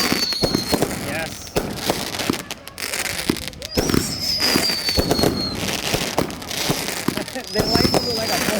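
A New Year's Eve fireworks show in Thibodaux, with repeated booming bursts and crackling pops near and far, whistling rockets rising, and people talking and cheering throughout.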